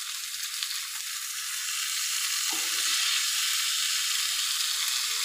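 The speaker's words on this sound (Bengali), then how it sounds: "এই ফ্রাইং প্যানে আমি দিয়ে দিলাম রসুনগুলো সম্বার, দিয়ে দিচ্ছি পেঁয়াজ কুচোগুলো। আমি এখন আলুগুলো দিয়ে দিচ্ছি।" Garlic, chopped onion and potatoes sizzle steadily in a frying pan, a loud continuous hiss with a brief clatter of stirring midway.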